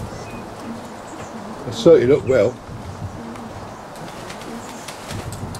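Racing pigeons coo in the young bird section of a premier racing loft in Egham, which has an open flight. The cooing is soft and steady in the background, with a brief louder burst, while people talk nearby.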